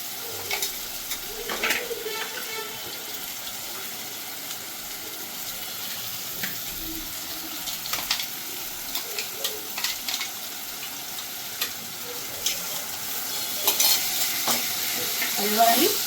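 Spice masala for a lote fish curry frying in a pan while a spoon keeps turning it: a continuous close sizzle with repeated scraping strokes that swell louder toward the end, with no talking.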